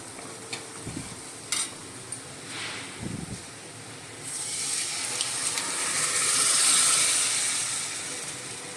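Fresh spinach leaves hit a hot pan and are roasted and stirred for a Maharashtrian palak bhaji, with a few scraping clatters of the spoon early on, then a steady hiss of sizzling that swells and stays loud toward the end.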